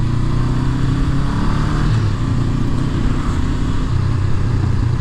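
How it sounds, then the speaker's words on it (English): A Honda CB500F parallel-twin motorcycle engine with its stock exhaust runs steadily, a loud, even low throb with a rough pulsing burble and no speech over it. "This inline, no, not inline, yes, this parallel twin. It's very cool with the stock exhaust."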